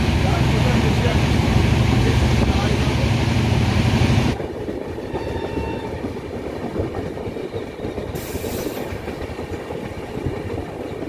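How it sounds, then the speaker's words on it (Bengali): The Agnibina Express rolls along the rails with a loud, steady rumble that drops to a quieter, continuous clatter partway through. "ট্রেন আমাদের চলে এসছে মানকর"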